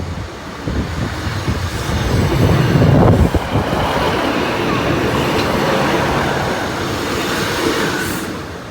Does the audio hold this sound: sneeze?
no